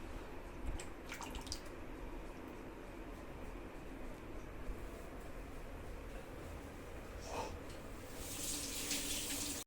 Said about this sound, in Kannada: ನೋಡ್ರಿ, ನೀರು ಕುದೀತಾ ಇದೆ.